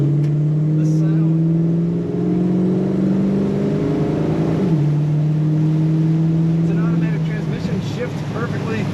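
A 1951 Studebaker Champion two-door street rod idles with a steady, loud low drone, its pitch dipping midway as it settles lower, under faint background noise.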